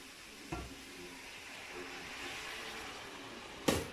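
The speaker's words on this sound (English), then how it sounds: "I'm just going to add a little bit of water." A steady sizzling hiss from a hot pan, with a soft clunk near the start and a sharp clatter near the end.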